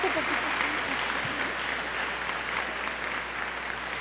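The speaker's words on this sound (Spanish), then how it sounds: "el aplauso que sea para todos nosotros" A crowd at a diocesan catechesis congress gives warm, continuous applause, a thick and even roar of many hands clapping together that holds steady throughout, with a brief muffled voice at the start.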